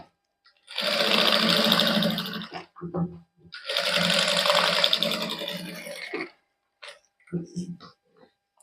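A sewing machine runs in two long bursts of steady whirring stitching as it sews along the top of a salwar suit, with a few short clicks and brief runs in between.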